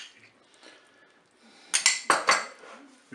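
A spoon stirs tomato paste into courgettes and minced beef inside a Cookeo multicooker pot: near silence, then four or five sharp metallic scrapes and clinks close by in the last second and a half.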